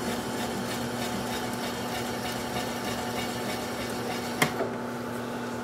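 A wood lathe spins with a steady tonal hum while a gouge scrapes against the bottom of a turned bowl, ending in a sharp snap as the cut breaks through, then quieter spinning.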